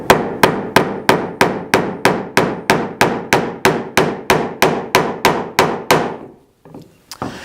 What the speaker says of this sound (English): we're just going to hammer it back in